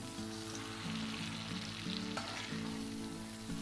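Fried cauliflower being stirred into tomato gravy in a pan gives a low, steady sizzle with soft scraping strokes underneath, close by and with no talking.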